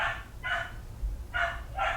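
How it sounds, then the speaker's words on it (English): Dog barking outside, four sharp barks in two evenly spaced pairs, moderately loud and slightly distant over a low background rumble. "Do you hear that? You hear what my dog is doing?"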